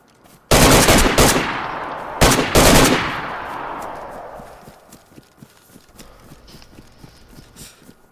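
Gunfire in the video game DayZ, two loud bursts of rapid automatic shots close by that ring out and fade, followed by quieter scattered clicks and taps.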